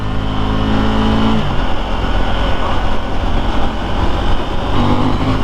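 A KTM Duke 890 R motorcycle accelerates hard in second gear, its engine a loud, close, rising drone with steady harmonic tones that climb and then drop briefly near the end as the revs change.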